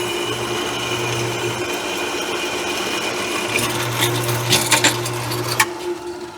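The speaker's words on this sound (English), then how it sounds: "Let me drill that hole out." A drill bores a hole in metal for an exhaust circle-cutting guide, a steady whirring motor with a few sharp bursts and rattles near the end.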